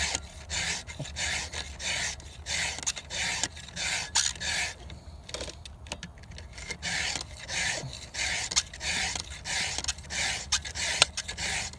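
Chainsaw chain being sharpened by hand with a file, rhythmic rasping strokes repeating steadily at close range, with a brief pause midway and no talking.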